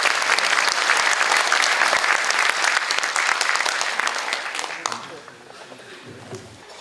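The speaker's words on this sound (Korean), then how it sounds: "큰 박수로 맞이해 주시기 바랍니다." An audience at a policy forum in a large parliamentary conference hall breaks into loud, sustained applause that tapers off into scattered claps and room murmur.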